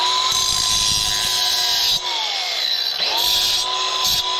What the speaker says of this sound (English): When we grind it, what's it do?